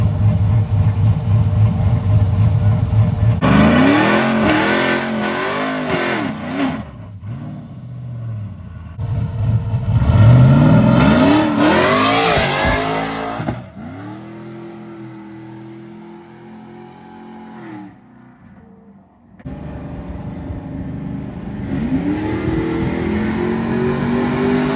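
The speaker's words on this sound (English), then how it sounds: "that was the little burnout" An OBS pickup truck with a drag pack roars through a burnout, the engine revving hard in rising bursts, easing off, then climbing again, loud and close with no talk.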